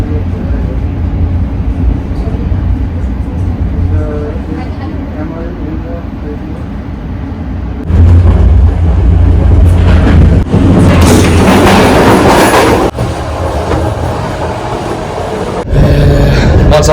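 Inside a moving train in Hungary, a constant low rumble rolls on with louder clattering surges partway through, while voices talk over the ride.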